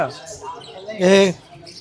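A bird gives a short, loud, harmonic squawk at a pet market selling birds, cats and dogs. It stands out briefly over a steady murmur of background voices.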